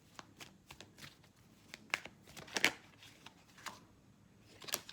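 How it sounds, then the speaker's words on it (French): Fortune-telling cards are shuffled and drawn: quiet, close papery riffles and crisp snaps in scattered bursts, with a few sharper flicks, alone without speech. "je vais quand même prendre une carte, une autre carte"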